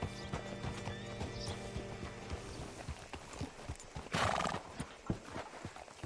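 Horse hooves clip-clop in Red Dead Redemption 2, a steady rhythmic plodding close by, with a loud whinny about two-thirds of the way through and soft background game sounds.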